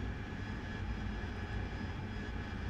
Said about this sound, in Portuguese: Nosso avião tanque vai passar à nossa esquerda aqui, ó.